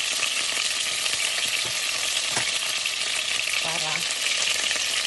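Garlic fries in hot oil in a pan for crispy chicken wings tinola, a dense, steady sizzling hiss with a few light scrapes and taps of a utensil.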